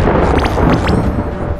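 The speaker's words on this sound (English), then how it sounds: "Let's watch the explosion." Dense, rumbling explosion noise in the video game SpongeBob SquarePants: The Cosmic Shake, with sustained roar and a few brief whooshing bursts, loud and continuous throughout.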